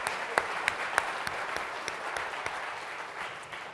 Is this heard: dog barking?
no